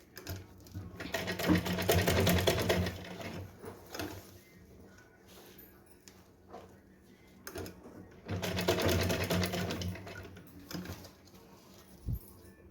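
A sewing machine stitches around the waist of a small Laddu Gopal (Kanha ji) doll dress, running in two sustained bursts of close mechanical whirring and clatter separated by a quieter pause with light handling sounds.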